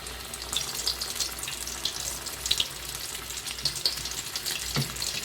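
Chicken pieces going into hot oil for homemade crispy Kentucky-style fried chicken give a steady, close, bright sizzle with scattered crackles and pops throughout, with no voices.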